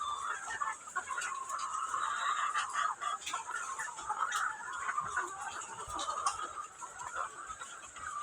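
Chickens cluck and squawk steadily at a farm with egg-laying hens, a busy chorus of overlapping calls at moderate distance.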